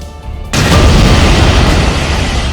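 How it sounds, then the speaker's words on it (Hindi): A sudden heavy boom breaks in as a gas well explodes, then a loud, sustained roaring rumble of the burning well continues without letup. "पहले जोरदार धमाके हुए, फिर गैस का कुआं आग का गोला बन गया।"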